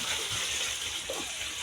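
Water gushes steadily from a container onto stored cassava peels, a continuous close splashing wash with a brief gurgle partway through.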